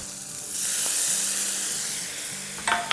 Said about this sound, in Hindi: अंडों को थोड़ा सा साइड में कर लेंगे, और इसमें अब हम डालेंगे 1 टेबलस्पून भर के लहसुन का पेस्ट